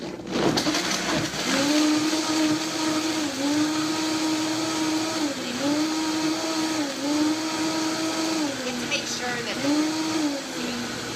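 A Vitamix blender whirs loudly as it blends green juice with ginger, its motor pitch dipping and recovering in repeated cycles as the contents churn, close and steady for about ten seconds.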